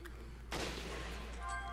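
A single sharp gunshot in the video game Resident Evil Revelations, with a sudden loud burst followed by a noisy tail and faint game tones.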